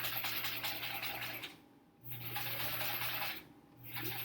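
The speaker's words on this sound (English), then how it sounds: "All right, done sewing." A sewing machine stitches the nested seams of a quilt block from The Splendid Sampler quilt along, running in steady bursts with two short pauses between runs, close and clear with no talking.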